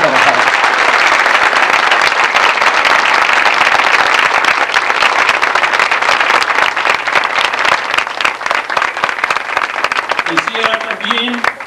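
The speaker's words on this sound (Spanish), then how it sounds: "Quisiera tributarles un aplauso, pero muy nutrido" Sustained applause from a large crowd, loud and dense clapping that carries on for several seconds before slowly thinning toward the end.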